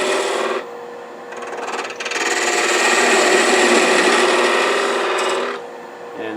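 A lathe tool cuts into spinning wood while a wooden tulip is turned, making a loud, close, rasping hiss in several sustained passes with short gaps between them.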